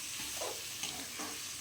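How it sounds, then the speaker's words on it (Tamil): Onions and sliced tomato sautéed in a pan for an eggplant dish, a dense continuous sizzle with soft stirring swishes, no voices. "ஸ்லைஸாக கட் பண்ணி வச்சுருந்த டொமேட்டோ ஆட் பண்ணிக்கிறேன். ஆட் பண்ணி அதையும் நல்லா வதக்குறேன்."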